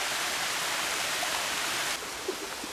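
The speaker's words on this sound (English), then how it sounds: "There is a pleasant little waterfall right near the start of the trail." A small waterfall near the start of a trail at Natural Bridge, Virginia, gives off a steady, even rush of falling water, close and loud, with no voices.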